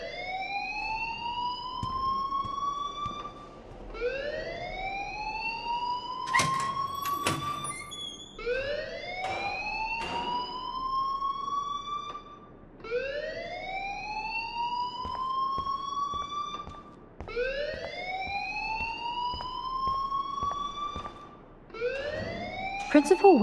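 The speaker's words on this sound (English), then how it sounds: "please turn off that alarm since that's your job" Fire alarm in the Life is Strange video game, a repeating rising electronic whoop sounding steadily about every two to three seconds, loud and continuous, with brief clatter and a voice heard underneath.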